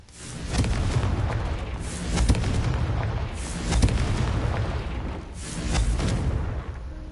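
Confringo fire spell blasts in Hogwarts Legacy as a series of loud, booming fiery bursts, about four swelling waves of rumbling explosion close up, with no pause between them.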